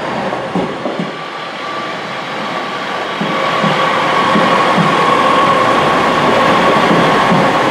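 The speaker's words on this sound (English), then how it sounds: "next train to pull out is a class 156 East Midlands train service to Worksop" A class 156 East Midlands train pulls out of Nottingham station bound for Worksop, its diesel rumble and rolling wheels building steadily louder over several seconds, with a faint tonal whine running throughout.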